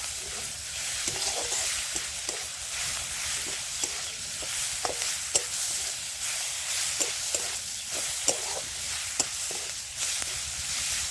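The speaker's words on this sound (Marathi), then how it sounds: "लसूण कोथिंबीरीची जी पेस्ट बनवून घेतली होती ती सगळी पेस्ट यामध्ये घातली आणि 1-2 मिनिटासाठी ही पण परतून घेऊया" Onion with garlic and coriander paste sizzles steadily in a pan, a constant bright frying hiss with small scattered ticks and spatters throughout.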